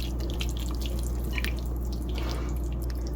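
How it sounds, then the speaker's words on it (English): Guinness stout trickles in a steady thin stream into chocolate cake batter, soft liquid drips and patters over a low constant background hum. "So now we're going to start adding the Guinness."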